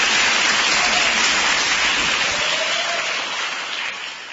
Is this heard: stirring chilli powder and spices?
no